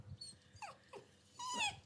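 A dog whimpering and growling close by in brief, faint bursts, ending in a higher whining yelp.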